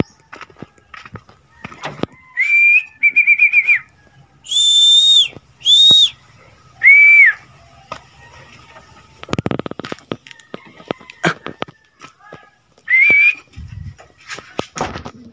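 A person gives several sharp, loud whistles in short bursts to shoo pigeons into flight. Bursts of rustling and flapping noise fall between the whistles.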